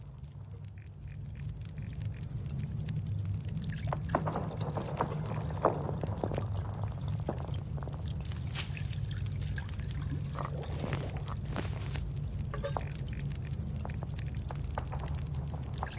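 Water pours steadily for birch bark tea in The Long Dark, a continuous gurgling stream lasting throughout, close and even, with light clinks and sloshing on top.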